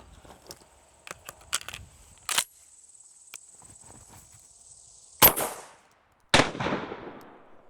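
A shotgun with a cylinder bore choke firing buckshot at a 10-yard outdoor range, two loud sharp blasts a second apart with trailing echo, preceded by several small clicks and clacks of handling.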